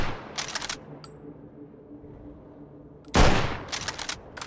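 Two SV98 sniper rifle shots in the VR game H3VR's Take and Hold mode: a sharp loud crack at the start and a louder, broader blast after three seconds, each followed by brief mechanical clicks, with a quieter rumbling background between them.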